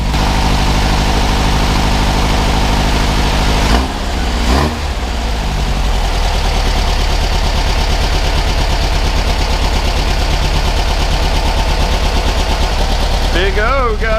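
A rebuilt 1973 VW Super Beetle engine, fitted with a new case and a stock oil pump, runs steadily at idle throughout, with a brief dip and a slight rise near the end, while people talk over it.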